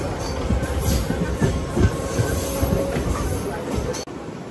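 A MEMU passenger train running on rails between Narsingipalli and Kasimkota, a steady close rumble of wheels and car noise with faint rhythmic clatter throughout.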